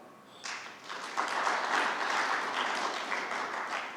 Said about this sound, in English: and I think you should clap for them.